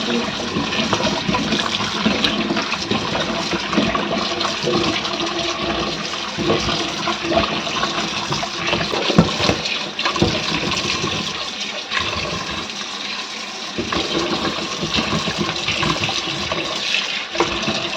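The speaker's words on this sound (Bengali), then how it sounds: "ভাবলাম তাহলে সবজিটাও একটু ধুয়ে নিই" Vegetables rinsed under running water at a kitchen sink, a loud steady rushing splash lasting the whole time with small fluctuations, close by and without talk.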